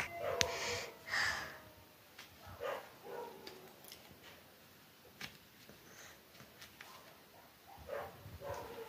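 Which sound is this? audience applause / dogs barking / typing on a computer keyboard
dogs barking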